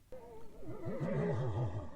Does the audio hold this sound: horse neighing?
yes